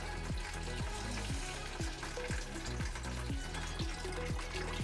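Coolant draining from the radiator of a 2009 Toyota Camry makes a steady, fairly loud splattering trickle with an even, repeating rhythm, heard on its own without voices.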